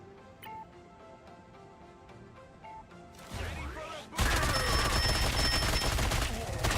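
Gunfire from a character in the Marvel Rivals video game, starting as faint rapid clicks over music, then a swelling burst and a loud, dense, sustained barrage to the end.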